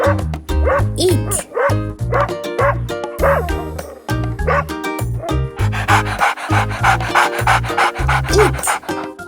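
A domestic dog barks repeatedly in quick bursts, with yips and panting between them. The barks are close and loud, and there is no talking.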